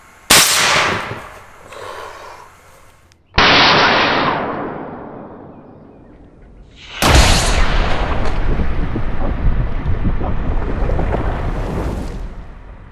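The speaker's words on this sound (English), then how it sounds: "I also tried to film with a wide angle to see how far the shockwave travels through the air." Homemade shockwave cannon fires three loud, sharp blasts, each a sudden bang followed by a long rushing roar and hiss of air, the last one sustained for several seconds, filmed outdoors with a wide view.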